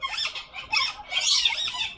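Pet bird squawking in short, bright, scratchy bursts, three or four calls close together, near and fairly quiet, with no talk over them.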